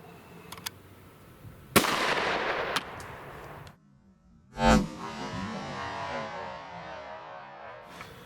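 A .40 S&W pistol shot fired into a target wrapped in heavy winter clothing: one sharp, loud report with a broad ringing tail, then a second burst of noise a few seconds later, with no talk.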